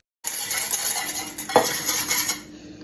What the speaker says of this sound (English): we're just going to whisk that together